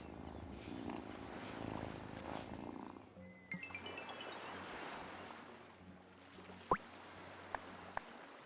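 A cat in the game Wylde Flowers purrs softly and continuously over a quiet ambient backdrop of wind and waves, with a few small sharp clicks near the end.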